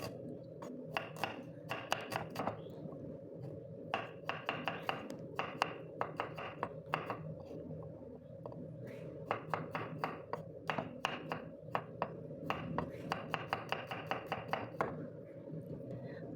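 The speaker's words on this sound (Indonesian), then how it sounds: "Nah, ini kita iris-iris dulu bawang putih dan bawang merahnya." Garlic and shallots are sliced with a knife on a cutting board, a crisp run of rapid tapping chops in bursts with short pauses, close and clear over a steady low background hum.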